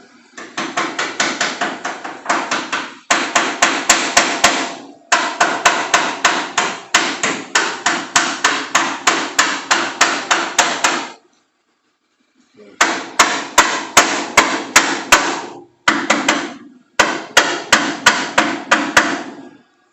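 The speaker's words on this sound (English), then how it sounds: "I'm gonna hit it one more time on this back side." Rapid, steady hammer blows on metal during a car restoration, loud and close, in long bursts of quick strikes separated by brief pauses.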